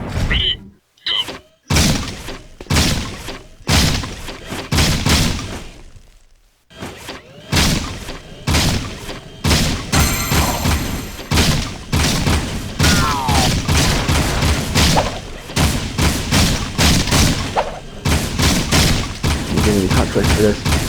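A high rate of fire weapon blasting in Jak II, rapid bursts of loud shots in long dense strings with brief pauses, close and punchy, along with impacts and shattering effects.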